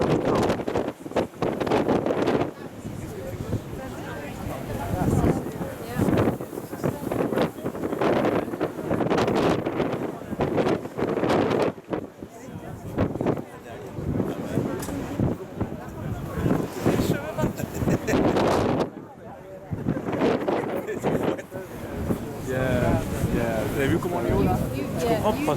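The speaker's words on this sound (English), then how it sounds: "And the wind is quite biting on this" Strong wind blows across the open 86th-floor observation deck of the Empire State Building, buffeting the microphone in loud gusts, with a voice talking through it.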